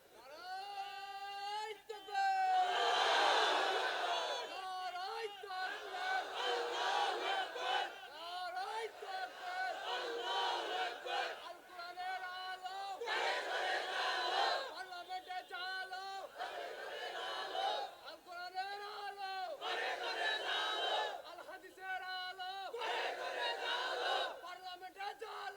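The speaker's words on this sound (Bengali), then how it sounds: "আবার স্লোগান দেন না দেখি।" A large crowd at an Islamic sermon gathering chants slogans in unison, loud rhythmic call-and-response bursts repeating over and over with brief pauses between shouted lines.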